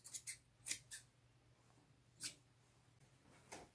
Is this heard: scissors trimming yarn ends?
yes